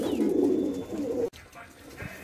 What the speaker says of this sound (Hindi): सारे कबूतर अपन ने अंदर कर दिए हैं